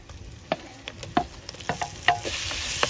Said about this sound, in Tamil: நம்ம வெங்காயம், கருவேப்பிலை, பச்சை மிளகா அதெல்லாம் போட்டுக்கிறோம். கிண்டிக்கிறோம்.